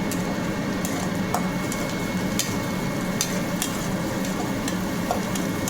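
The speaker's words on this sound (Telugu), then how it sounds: "ఎర్రగడ్డ ఇలా ఏగితే చాలండి" Onions fry in oil in a pan while bitter gourd masala is made, giving a continuous soft sizzle. Occasional sharp clicks of a spoon stirring and tapping the pan come through, with no talking.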